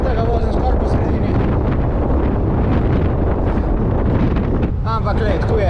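Strong headwind roars and buffets against the microphone during the final straight of a cycling time trial, a loud continuous rumble with a rider talking briefly underneath.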